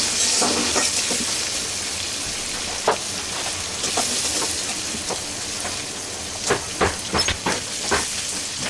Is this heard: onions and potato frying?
yes